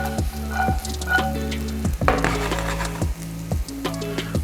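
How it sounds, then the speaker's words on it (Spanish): Broccoli stalks sauté in very hot oil in a pan, making a steady close sizzle broken by repeated scrapes and knocks from a stirring spoon. "Con el aceite bien caliente añadimos primero la parte del tronco del brócoli, ya que es más dura, y la salteamos."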